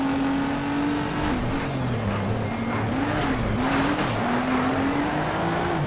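Nissan GT-R race car in the game Need for Speed Shift, its engine droning steadily with rising and falling pitch as tires squeal and skid through corners, loud and continuous throughout.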